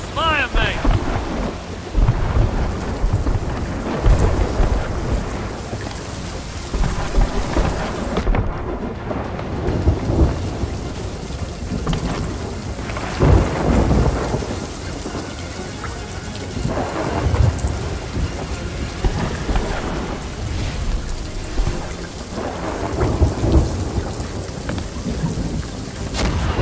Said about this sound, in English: Lightning cracked the spire.